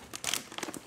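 A bag of foreign Lay's chips is torn open, a short burst of crisp crinkling and crackling plastic, close and fairly quiet, lasting under a second.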